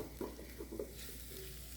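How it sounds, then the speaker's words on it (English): Quiet sizzling of food frying in a cast iron pan on a stovetop, a steady soft crackle with a few light clinks of stirring near the start, no voices. "Look, it's sizzling."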